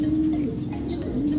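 A pigeon coos nearby in a low, steady, throaty hum over faint background noise.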